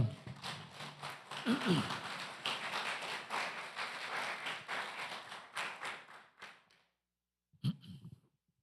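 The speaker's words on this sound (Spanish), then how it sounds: "Un aplauso para el Señor." Church congregation clapping in praise during a Spanish-language service, a dense run of hand claps lasting about six seconds before stopping abruptly, then a short burst of sound after a pause.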